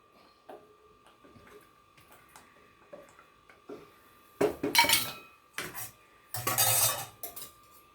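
Metal spoon scraping and clinking against the inside of a pressure cooker while masala ragi pongal is stirred, with light taps early on, then a few louder bursts of scraping and knocking close by.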